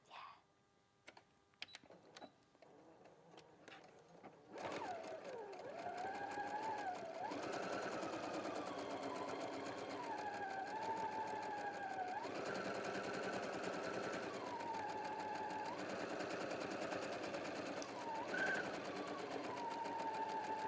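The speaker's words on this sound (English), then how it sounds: "with wrong sides together, I'm just going to stitch along" Sewing machine stitching a seam on a dress, a fast rattling whir in several bursts that rise and fall as the seam is guided, after some quiet handling at the start.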